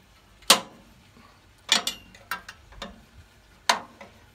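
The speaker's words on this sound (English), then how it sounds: "13 millimeter wrench, we'll go ahead and loosen up our bolts here." A 13 mm wrench works bolts loose on a Woodland Mills sawmill, giving a handful of sharp metallic clicks and clanks spaced irregularly against a quiet background.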